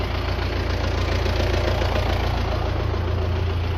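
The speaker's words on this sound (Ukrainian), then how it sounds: "Трактором покрутився." A tractor engine runs steadily while moving a rusty 4-cubic-metre wheeled barrel, a loud, close, continuous low rumble with a knocking throb and no speech.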